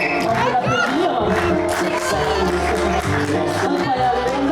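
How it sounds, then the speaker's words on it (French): An improv show audience applauding and cheering loudly, with continuous crowd shouts and clapping at close range, and some voices calling out over the noise throughout. "On peut l'applaudir."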